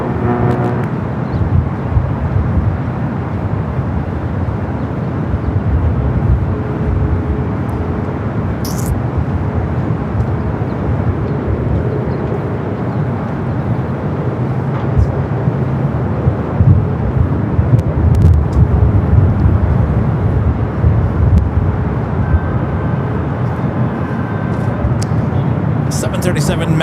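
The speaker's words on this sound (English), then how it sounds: "RNAV to Delray, runway 24 left, clear to takeoff." An airliner takes off at Los Angeles LAX airport in gusty wind, a steady broad engine roar with heavy wind rumble that swells slightly midway. Radio voices talk over it throughout.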